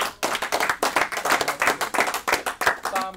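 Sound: applause from family and friends

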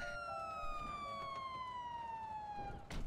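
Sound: police car siren in GTA NoPixel roleplay video game

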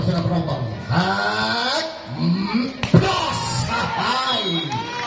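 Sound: spectators at a semifinal match

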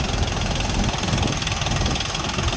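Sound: mini tractor engine idling

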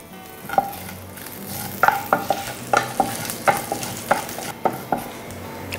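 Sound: mustard seeds and green chilies sizzling in coconut oil

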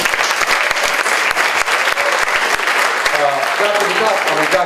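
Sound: audience applause

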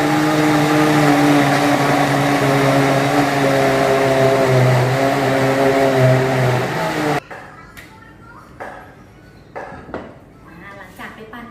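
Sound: blender blending corn for corn milk

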